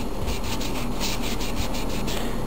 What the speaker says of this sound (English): now I'm going to wipe it off with some alcohol, just kind of clean off any grease and crap that might be there